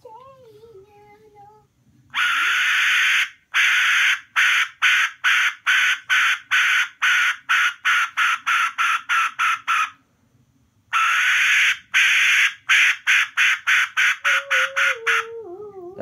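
A Vietnamese brass whistle used as a chicken-trapping lure imitates a hen with loud, sharp clucking blasts in rapid rhythmic series, two long runs separated by a pause, with a short voice speaking at the start and end.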